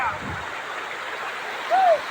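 A fast, swollen river near the Bhutan border rushes with a steady broadband roar, close by, while a voice briefly sounds over it near the end.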